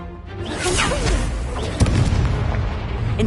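A fire spell cast in Hogwarts Legacy bursts out with a swooshing whoosh and a sharp booming impact midway, over a dense, continuous rumble of combat effects.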